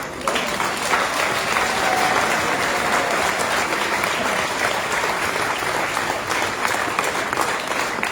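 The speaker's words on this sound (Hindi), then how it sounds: "ये सारे चैंपियंस के लिए जितने लोग बैठे हैं ताली बजाएंगे" An audience seated at a business gathering in a hotel ballroom claps for honorees, a full, sustained round of applause that stays loud and even from start to finish.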